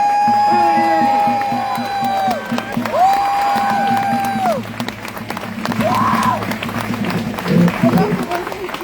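A street rally crowd claps, cheers and whoops at a steady, lively level, with chanting voices and loud tonal shouts rising over the applause throughout.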